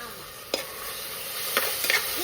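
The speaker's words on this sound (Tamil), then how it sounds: "இனி நம்ம என்ன பண்ணணும்னா கொஞ்ச நேரம் வெங்காயத்தை வதக்கணும்." Onions sauté in a pan for chicken biryani, a continuous close sizzle with a few sharp scrapes and clinks of a spoon stirring against the pan.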